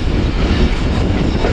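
The Shalimar Express, a passenger train, rumbles steadily along the track in a continuous low roar with a faint wheel clatter, close and loud throughout.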